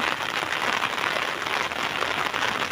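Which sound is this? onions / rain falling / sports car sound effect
rain falling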